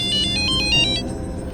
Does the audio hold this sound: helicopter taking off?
no